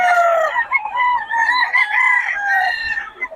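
A seven-month-old stag rooster crows loudly and close, one long drawn-out call with wavering pitch that fills the whole moment, with faint farm background beneath.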